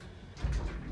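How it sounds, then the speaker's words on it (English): Meridian lift doors slide open in a building, giving a short low rumbling whoosh at close range that swells midway through the brief moment. "Doors opening."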